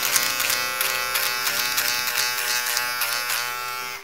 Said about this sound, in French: Et dedans, voilà, on a le petit rasoir.